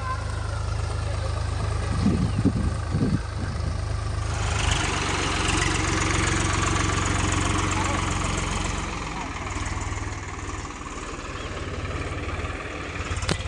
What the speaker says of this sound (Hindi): चलो अब मैं भी थोड़ा सा ट्रैक्टर चला लेता हूँ, और मैं आ गया वो ट्रैक्टर चलाने।